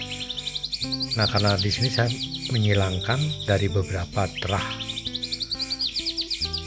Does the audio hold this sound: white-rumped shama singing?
yes